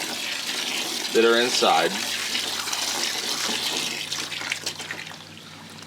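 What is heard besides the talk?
adding water to a hydroponic growing container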